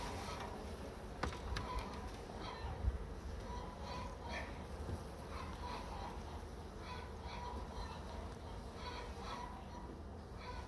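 Honey bees hum steadily around an opened hive with capped brood and incoming pollen, a dense, moderately faint drone with small rising and falling swells, with no talk over it.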